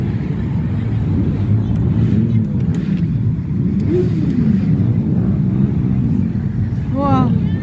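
Motorcycles of a bikers' parade riding past in Chisinau at a season-closing ride, a loud continuous engine drone with rising and falling revs as the bikes go by. People talk over it.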